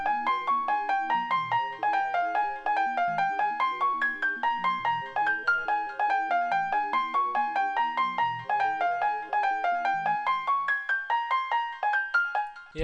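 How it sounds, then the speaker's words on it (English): A bright piano melody for a futuristic glo beat plays alone: a steady, fast run of evenly spaced notes over a low accompaniment, with no voices. "So after that I added in this piano"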